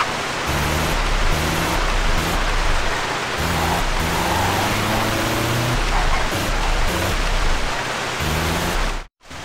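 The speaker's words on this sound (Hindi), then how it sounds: "बारिश भी हो रही है" Steady rain hisses in GTA San Andreas, a dense, loud wash of noise with low engine-like tones underneath, cutting out abruptly near the end.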